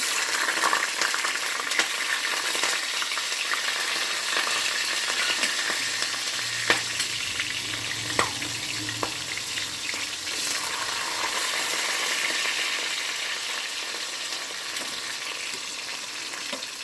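Potato and tomato curry sizzles and fries steadily in a pan for a simple home meal, a continuous close crackle with occasional stirring clicks and knocks.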